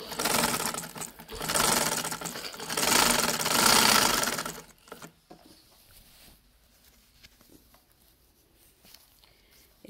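A sewing machine stitching invisible lace onto the slit of a kurti runs in a loud, dense, whirring burst for about five seconds, then stops, leaving faint handling clicks in a quiet room.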